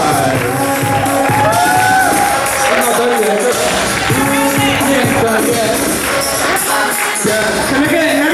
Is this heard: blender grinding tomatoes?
no